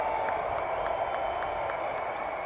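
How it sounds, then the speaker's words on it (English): A college football stadium crowd at New Mexico at Wyoming roars on third down, a dense, steady wash of distant cheering with faint rhythmic pulses running through it. "The crowd comes to life on third down"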